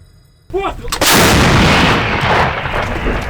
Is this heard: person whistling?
no